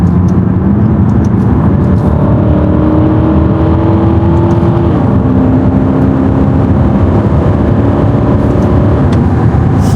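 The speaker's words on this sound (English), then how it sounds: "Yo, this car moves." An Aston Martin DBX SUV drives hard and accelerates, its engine note rising and stepping through gears with a loud sustained drone and road roar heard from inside the cabin.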